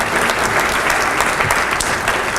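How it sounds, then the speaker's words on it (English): An audience at a legislative breakfast in Aptos, California breaks into sustained applause, a thick, even patter of many hands clapping close by without letting up. "Right now, you have to applaud, you know"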